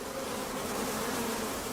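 Worker honey bees buzz in a dense, steady drone, a continuous close hum filling the whole moment without pause.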